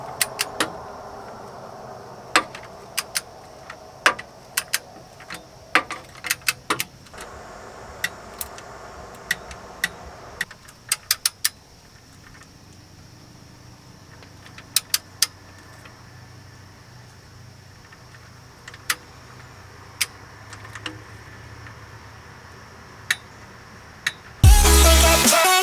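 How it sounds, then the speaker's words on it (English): Scattered sharp ratchet clicks and metallic ticks sound close by as transmission pan bolts are run in on a Cummins 47RE, spaced irregularly over a quiet background, ending in a brief loud clunk. "Time to install the rest of our bolts."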